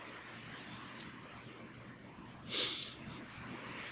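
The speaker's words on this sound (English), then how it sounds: "A lot of rain coming down right now." Rain falling on a tent makes a faint, steady patter with scattered louder drops and a brief swell of noise partway through, without clear talk.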